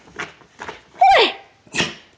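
A dog gives a few quick, sharp snorts and sneezes close by, separate bursts spaced across a couple of seconds with brief quiet gaps between them.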